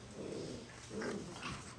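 A litter of puppies play-wrestling makes soft, close growls and grumbles with small yips, a steady scuffling rumble that swells near the end.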